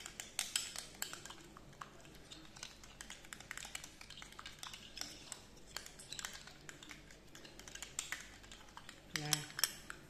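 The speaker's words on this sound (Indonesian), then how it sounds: "Lalu ini susu, mayones, dan saus sambal kita aduk." A spoon stirs milk, mayonnaise and chili sauce together in a bowl for shrimp mayo, giving steady light clinks and scrapes against the bowl throughout, close and moderately quiet, with a louder knock near the end.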